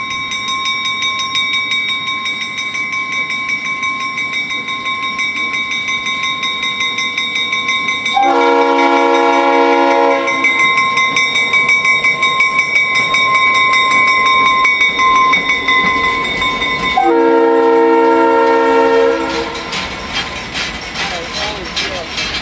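Norfolk Southern train BH26 hauling molten steel cars, a loud nearby horn sounding two long blasts over steady rumbling rail noise.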